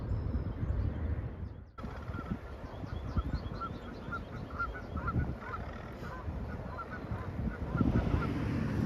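Canada geese honk repeatedly in a steady chorus over low rumbling outdoor noise along the Rideau Trail in urban Ottawa, fairly close, with calls overlapping throughout.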